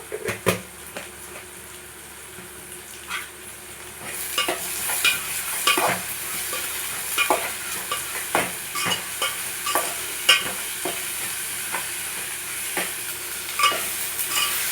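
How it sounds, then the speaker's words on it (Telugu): Ginger garlic paste frying with cooked-down tomato for a prawn curry, a steady sizzle that grows louder partway through, with frequent scraping stirs of a spoon against the pan. "అల్లం చున్నులపై పేస్ట్ పచ్చివాసన పోయేదాకా వేయించుకోవాలి"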